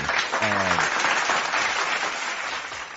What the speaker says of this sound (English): I gotta give some applause for that one